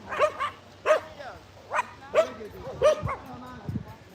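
A dog barks about six times in sharp, uneven bursts, fairly close and clear over a low background hum.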